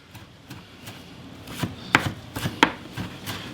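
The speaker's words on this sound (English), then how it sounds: "now I'm going to slice it into chiffonade." A knife slices washed cilantro into a fine chiffonade on a cutting board, giving a few soft, close, scattered cuts with light crisp taps and no talking.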